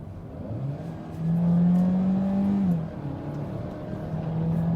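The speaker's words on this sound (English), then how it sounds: "when I'm hammering it all through, then the combustion engine also gets activated" A 300 hp Peugeot 3008 plug-in hybrid accelerating hard from about 50 to 100, its combustion engine cutting in with a loud, steady drone that swells for a second or two, then eases back under a constant road hum.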